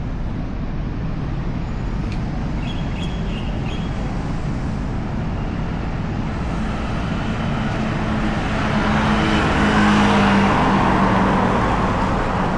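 A city bus pulls up beside steady road traffic at a Singapore bus stop. Engine rumble stays constant and swells louder toward the end as the vehicle comes close.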